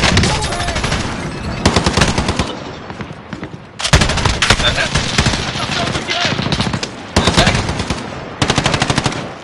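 A decoy grenade in a video game mimics gunfire, producing loud, rapid machine-gun-like bursts in several separated volleys, close and harsh.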